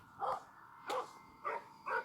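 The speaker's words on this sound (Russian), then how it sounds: "У нас тут, кстати, собачка есть." A small pet dog lets out four short, evenly spaced barks, moderately faint, with no talking in between.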